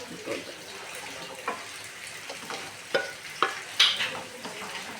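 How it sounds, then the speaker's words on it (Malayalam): Chicken curry with roasted ground coconut is stirred in a pan, a soft sizzle broken by several sharp spoon scrapes and clatters, growing louder toward the end. "ഇതിനെ നന്നായിട്ടൊന്ന് ഇളക്കി യോജിക്കാം"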